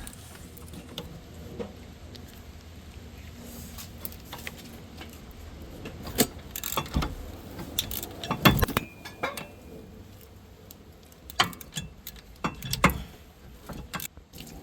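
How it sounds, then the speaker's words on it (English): Wrench and ratchet working loose a rear end link on an Infiniti G-series car, faint metallic clinks and clanks of tools against the suspension, scattered and quiet at first, then growing into clusters of louder clanks and ratcheting. "So we got the wrench over here, and we got the ratchet over here. Let's take it off."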